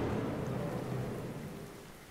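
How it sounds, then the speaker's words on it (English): In a video game, a storm rages outside a house: steady rain hisses over a low rolling rumble of thunder that slowly fades, all heard alone. "Oh, it's thunder."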